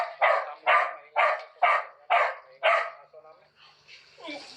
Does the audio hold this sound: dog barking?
yes